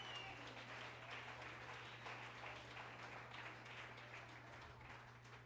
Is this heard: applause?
yes